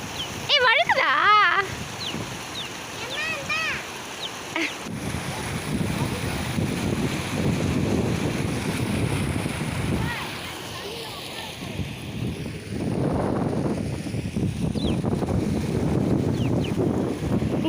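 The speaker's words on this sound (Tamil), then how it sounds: "உங்களுக்கு இந்த அலை ஓடுற சவுண்ட் கேட்குதா?" Waves wash along a village shore beside gusting wind buffeting the microphone, a soft, irregular surging that swells and recedes, with a few brief squeaks near the start.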